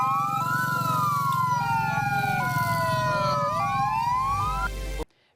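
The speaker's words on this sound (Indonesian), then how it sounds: "Penyampaian orasi diakhiri pembunyian sirine dari 3 ambulans" Sirens from three ambulances wail together at the close of an oration as a sign of mourning, several loud sweeping tones rising and falling over each other, then cutting off abruptly.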